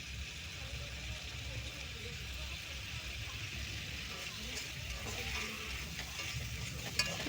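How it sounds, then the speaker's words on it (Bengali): Cauliflower and soybean curry with ginger paste stirred and sautéed in a pan, a steady low sizzle with scraping stirs running throughout, close and even. "এবার আমরা এই সবগুলোকে কষিয়ে নেব।"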